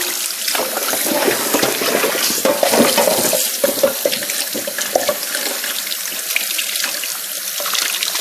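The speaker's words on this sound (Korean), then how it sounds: "이제 물로 닦아 보겠습니다. 이제 깨끗이 한 3번 정도, 3-4번 정도 깨끗이 씻어 주시면 되거든요." Frozen pollock being rinsed in a kitchen sink under a running tap, with a steady, fairly loud rush of water splashing continuously throughout and no talking.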